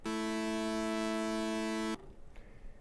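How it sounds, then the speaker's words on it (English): A synthesizer note played with both oscillators detuned, giving a dissonant, beating tone. It is a sustained, loud, steady tone that holds for about two seconds and then cuts off abruptly, leaving faint room noise. "And in musical context, with both oscillators, it sounds like this when you press a note"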